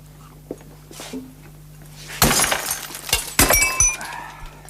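An object, likely glass, is smashed and shatters loudly, followed by a second crash and tinkling fragments settling, with quiet room sounds before the impact.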